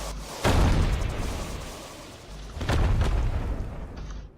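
Two heavy cannon blasts fire from a flying ship in the game Sunless Skies, the first at once and the second about two seconds later, each a loud booming burst with a rumbling tail.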